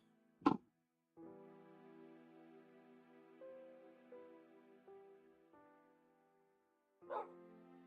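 A spoiled pet dog gives a sharp close bark, then a long drawn-out whining cry of wavering pitch, ending with another bark.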